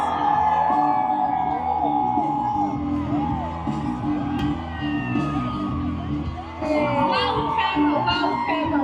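A crowd at a Bahrain Grand Prix fan event cheers, whoops and yells loudly and continuously, a dense roar with scattered high shouts throughout.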